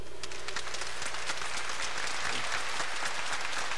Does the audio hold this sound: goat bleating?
no